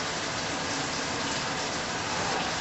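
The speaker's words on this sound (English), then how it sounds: "We're going to rinse all the salt off." Tap water gushing steadily in a kitchen, rinsing salt off sliced zucchini, a continuous close hiss of running water with no talking.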